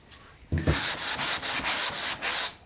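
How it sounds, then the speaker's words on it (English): Rhythmic wet sanding by hand in a cross pattern during prep before paint, a series of about seven rasping back-and-forth strokes, close and steady, following a brief quiet start. "I'm sanding in a kind of a cross pattern here."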